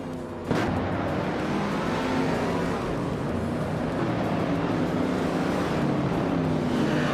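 Engines roar in a racing video game that features a 1965 Bizzarini 5300 GT Strata. A sharp burst starts the sustained loud engine drone, which keeps going steadily with no talking.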